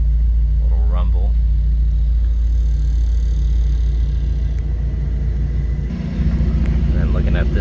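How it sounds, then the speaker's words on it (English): A 2024 Mercedes-AMG GT 63 idles with a deep, steady exhaust rumble that swells slightly partway through, heard close up while a person talks over it. "And you can hear the exhaust change, ready?"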